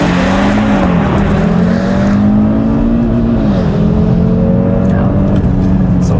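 A Cupra Formentor VZ5 launching under launch control, its engine droning loud and steady from inside the cabin as it pulls hard, the pitch climbing through each gear with brief dips at the shifts, continuous for the whole stretch.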